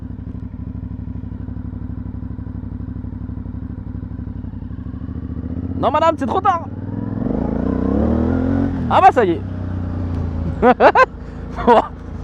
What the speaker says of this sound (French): petit départ arrêté de 0 à 50 km/h